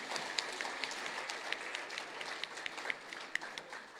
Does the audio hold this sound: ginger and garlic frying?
no